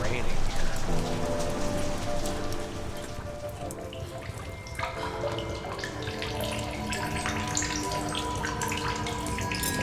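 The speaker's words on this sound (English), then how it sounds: "Why does it sound like it's raining here?" Rain falls in The Solus Project as a dense, close patter and splash of drops, steady and fairly loud over a layer of droning game music.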